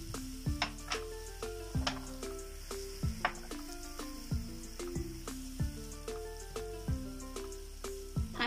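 Ginger garlic paste and ground spices fry in a pan, a constant sizzle broken by regular scraping strokes of stirring, roughly one every second, close and fairly quiet.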